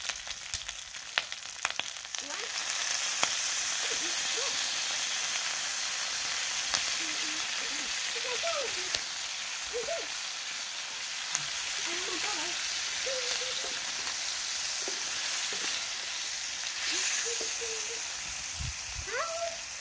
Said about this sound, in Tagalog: Yan, lagyan natin ng soy sauce guys.